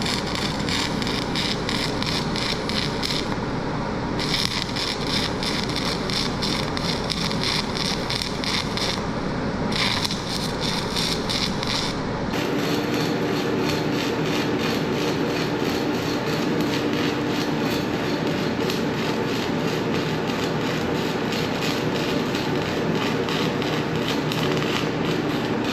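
An HTP Freedom 3000 Pulse welder runs pulse stick welding on vertical uphill welds, making a steady, close crackling buzz with a fast rhythmic pulse that lasts about 26 seconds and changes tone partway through.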